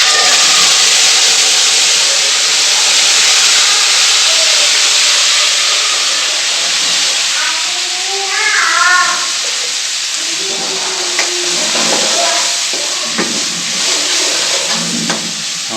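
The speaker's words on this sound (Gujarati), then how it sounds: "દાળનો વઘાર થાય છે મિત્રો." Urad dal gets a tempering of cumin seeds and curry leaves, a loud steady steamy sizzle and hiss that runs the whole time, with scattered spitting crackles growing busier toward the end.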